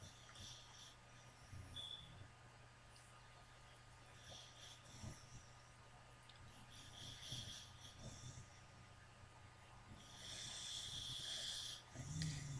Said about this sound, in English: You can hear the dog snoring in the background.